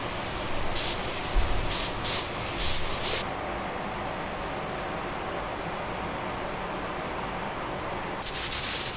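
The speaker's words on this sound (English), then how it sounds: "then I'll spray a clear coat on top." Several short hissing bursts of a spray gun applying two-pack satin clear coat to a custom-painted motorcycle, then a pause with low background hum, followed by another sustained spray blast at the end.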